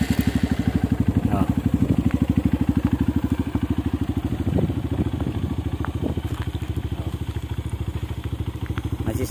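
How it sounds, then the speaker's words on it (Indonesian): A Honda CRF 150L supermoto dressed in Husqvarna bodywork sits at a steady, close idle with a rapid, even single-cylinder chug and slight clatter; a brief louder blip comes near the middle, and faint talk sits beneath the engine. "Kita nyalain dulu ya motornya."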